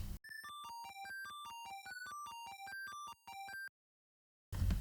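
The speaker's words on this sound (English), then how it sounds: "some square waves coming from the SN76489, and they sound like this" Square-wave tones from a Sega Genesis SN76489 sound chip play a quick, even run of buzzy chiptune notes in a repeating melodic pattern. The notes cut off abruptly into a brief silence before other sound returns.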